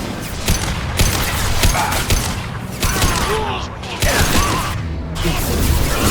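Dense gunfire from the video game Mass Effect 2: rapid, overlapping shots and impacts in a near-continuous barrage, loud and close, with combat voices mixed in.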